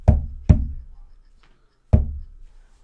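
Three hard knocks of a hand on a wall, two in quick succession and a third after a pause, each a sharp thud with a short ringing decay, loud and close with no talk.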